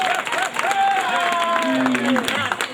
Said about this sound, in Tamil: அந்த கைத்தட்டுங்க